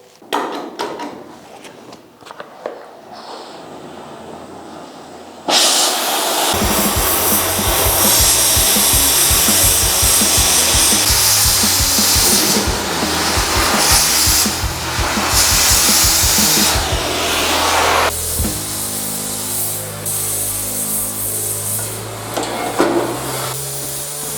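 An LPG gas torch cuts through the steel keel of a liveaboard trawler under rebuild: after a few quiet seconds, a loud, steady roaring hiss with crackling bursts starts and continues close up, then eases slightly near the end, with no talking.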